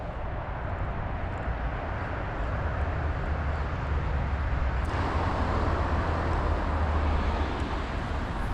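Motorway traffic roars close by beside a canal, a dense, steady broadband rumble with no breaks, a wash of passing vehicles and wind noise.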